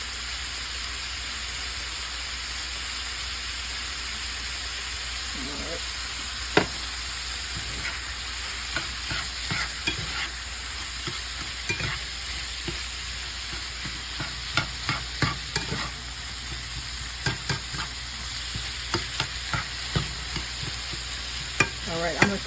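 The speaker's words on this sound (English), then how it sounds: "I'm going to cook this until this sausage is done" Sausage with fennel seeds frying in a pan, a steady soft sizzle throughout with intermittent sharp clicks and scrapes of stirring growing more frequent toward the end.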